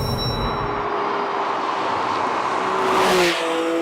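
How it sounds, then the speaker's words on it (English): A Porsche 911 engine revs hard under acceleration, a sustained rising tone that builds toward a louder peak near the end before easing off, heard alone with no talk. "Wow, what an engine. Absolutely razor-sharp throttle response and linear power delivery that just keeps on going."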